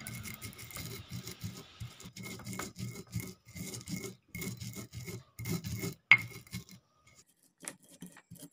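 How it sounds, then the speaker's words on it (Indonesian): Shallots, garlic and coriander being pounded and ground in a mortar with a pestle, a rhythmic series of rasping, scraping strokes about every half second, close by, ending with a sharp clink and then quiet. "Bawang merah, bawang putih, dan ketumbar kita akan tumbuk atau ulek."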